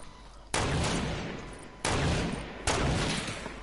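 Three loud gunshot blasts from a sniper shootout video game, each a sharp broadband crack followed by a long decaying echo, spaced unevenly about a second apart.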